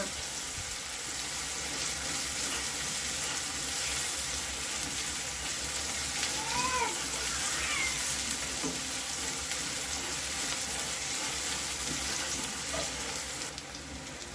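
Onion sautéing in oil in a pan for methi matar malai, a steady loud sizzle throughout with faint stirring scrapes, no talking.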